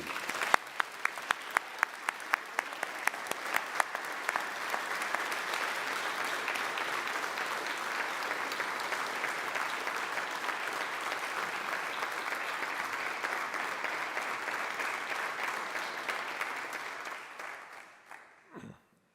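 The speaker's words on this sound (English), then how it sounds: "Let's have a round of applause for these young men." Round of applause at an Eagle Scout Court of Honor, beginning with a few scattered claps, swelling into sustained, dense clapping from an indoor audience, then fading out near the end.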